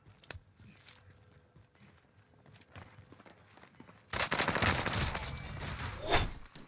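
Gunfire from a building in a shooter game: scattered faint shots give way to a sudden loud, dense burst of rapid firing that continues to the end, close and harsh.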